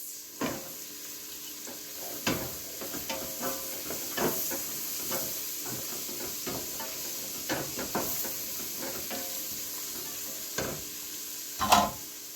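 Carrots sautéing in a pan for broccoli soup, a soft steady sizzle with scattered clicks and scrapes of stirring throughout, one sharper clatter near the end, no talking.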